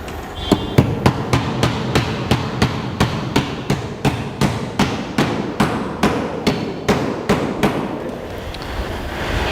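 Hammer blows drive nails through overlapping Decra metal roof tiles, about twenty loud, sharp strikes in a steady, fast rhythm, close by with no talking.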